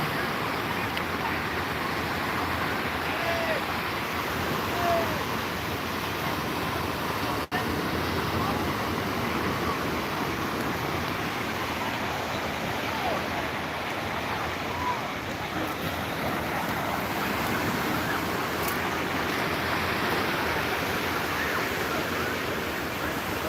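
Mild ocean waves wash steadily onto a beach where swimmers come to bathe, a continuous broadband surf roar with little variation, fairly close and filling the whole scene without clear individual breaks.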